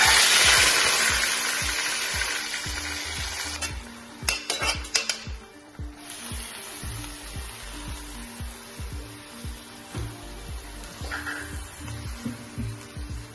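A spoon stirs cooked chogate greens into garlic-flavoured oil in a pan, with quick rhythmic scraping and clinking and a soft sizzle underneath, close and continuous with no talk.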